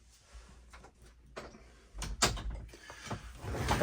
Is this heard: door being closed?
yes